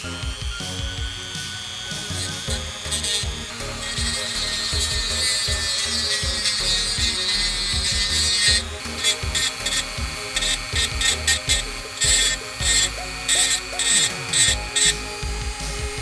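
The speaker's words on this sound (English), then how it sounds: "I think it still needs a little bit of Dremel work." A handheld Dremel rotary tool grinds a lightsaber switch housing up close, a steady high whine for about eight seconds that then breaks into short repeated bursts of grinding with brief pauses between them.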